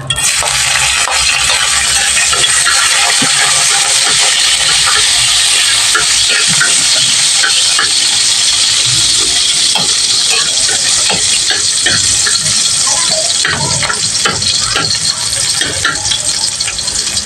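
Onion and garlic sizzling in hot cooking oil in a frying pan, a loud continuous close crackle and hiss that fills the whole stretch, with occasional stirring scrapes.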